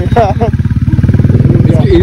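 A motorcycle rides along a street in Dehradun, its engine putting out a close, rapid pulsing throb under loud conversation from people nearby.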